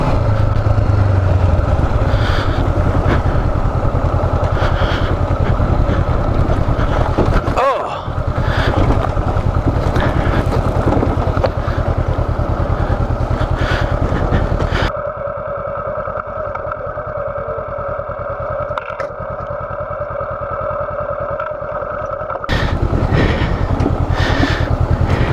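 A 2019 Honda CB500X on Bridgestone tires crawls the Cleghorn hard trails in first gear, a loud, steady engine drone mixed with wind rush that drops quieter for several seconds midway before surging back.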